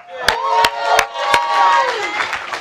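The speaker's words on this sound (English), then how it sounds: "You can clap for him." A congregation at a campus devotional gives a handful of sharp, separate claps for the preacher, about four distinct hits amid cheering voices and chatter.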